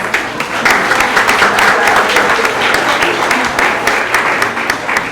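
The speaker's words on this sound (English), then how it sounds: "Let's give them a round of applause." An audience at a community forum on a lakeside benefits agreement applauds public officials, giving steady sustained clapping that lasts about five seconds with a faint voice underneath.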